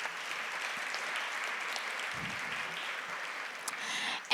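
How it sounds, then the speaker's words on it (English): Steady crowd applause at a business event, a continuous moderate wash of clapping from a room of attendees, held evenly throughout with a muffled thump partway and a brief sharper clap near the end. "So round of applause for the committee."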